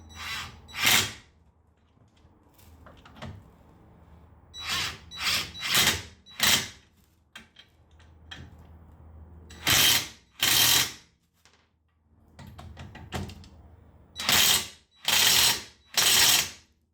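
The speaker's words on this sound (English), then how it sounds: "you want to tighten these up with your impact driver" An impact driver tightens bolts on the brakes of a 2015 Mercedes CLA 250 4Matic, firing in loud close hammering bursts of about a second each, roughly a dozen times with pauses and small clicks between.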